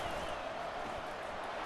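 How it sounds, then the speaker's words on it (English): A football stadium crowd at an Arizona Wildcats versus Georgia Tech Yellow Jackets game roars steadily in a sustained, distant wash of cheering noise without distinct peaks. "This crowd is trying to inspire this defense to make a big red zone stop."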